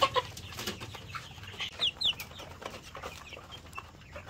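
Chickens cluck and squawk as they compete for feed, with scattered short calls and a few sharp, high squawks, close by over a low farmyard background.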